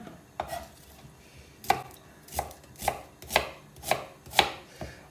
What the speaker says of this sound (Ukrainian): Нарізати можна крупно, вона ще переб'ється.